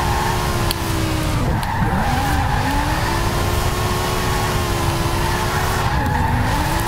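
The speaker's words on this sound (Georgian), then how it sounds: "მოდი ახლა ვცადოთ რაღაცა დრიფტები ვიპილოთ" A BMW E60 drifting on a winter circuit in Forza Horizon 4, its tires squealing in a long, loud, continuous screech over a steady engine drone, the pitch wavering as the slide changes.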